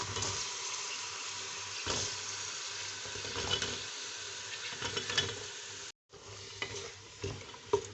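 Bottle gourd stirred and frying in spiced oil in a pan, a steady close sizzle with scraping stir strokes, a brief break near the end before the frying resumes.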